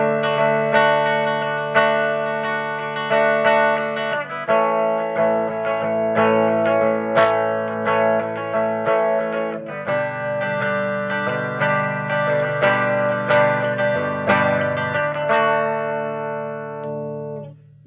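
An electric guitar on its bridge pickup plays a clean tone through a Donner amp: sustained chords and single notes ring close and clear in steady phrases, with no talking over them.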